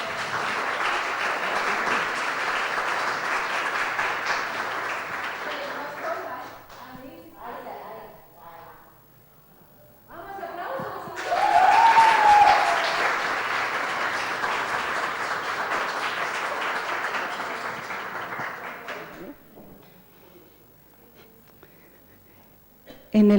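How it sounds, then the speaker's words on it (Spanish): Applause from an audience at a church theater play about women of the Bible, a long, steady wash of clapping that fades, pauses, then swells again into a second sustained round. "un aplauso sí para que se anime la primera"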